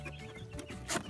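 A brooder chick or chicken gives faint, soft clucking in a quiet setting, a brief low murmur with one slightly louder burst near the end.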